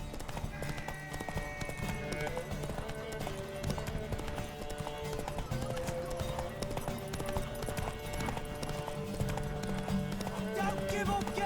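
Horse hooves clip-clop at a fast gallop in The Witcher 3, with rhythmic hoofbeats under game music and shouted voices during a race to a tower.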